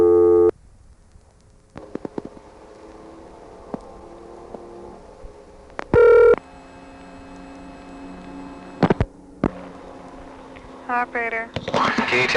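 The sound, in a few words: telephone dialing tones on 1976 telephone line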